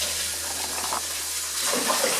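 Peeled cassava for akpu being washed in water, a steady rushing splash with sloshing swells toward the end, close and fairly loud.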